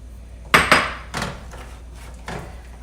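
Pecans and fresh cranberries are stirred into caramel sauce, giving a few sharp clanks and knocks of a utensil against a pan, two loud close together and then softer ones spaced out, with no talk.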